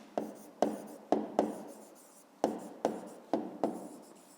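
A pen or pencil taps and scratches across paper in short strokes during a fifth-grade maths exercise, with about nine sharp, close strokes at an uneven rhythm in a quiet room.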